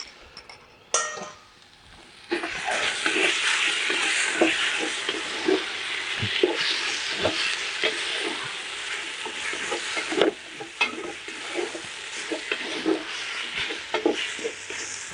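Tomato paste frying in a pan for goat curry, a steady close sizzle broken by repeated scraping stirs and the occasional clink of a utensil against the pan, with no talk.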